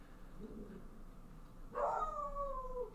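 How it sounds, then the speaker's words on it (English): A dog named Darby lets out a drawn-out howling bark in the distance, one rising wavering call after a quiet stretch, faint against low background noise. "Darby's barking."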